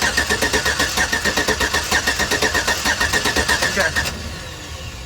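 An engine with a collapsed lifter, cylinder deactivation fitted, cranks with a rapid rhythmic starter chug for about four seconds, then fires and settles into a lower idle. The sound is close and loud, and one short spoken word is heard.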